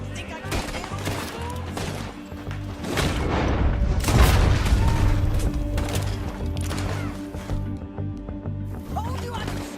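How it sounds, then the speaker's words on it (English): Gunshots in the video game Red Dead Redemption 2, booming shots and thuds layered with game effects and music, with people talking over the action. "Told you I could shoot a gun"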